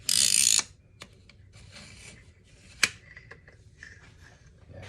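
A 1971 Ford Maverick parking brake handle gives a loud burst of ratcheting clicks, then scattered quieter mechanical clicks and one sharp clack as the handle is twisted and released.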